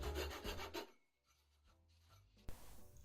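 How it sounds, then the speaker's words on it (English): A hand file rasps across the cut end of a metal wardrobe clothes rail pole in a few quick scraping strokes, faint and close, with a short quiet gap and then another sharp scrape. "I cleaned up the cut with a file to get rid of any sharp edges"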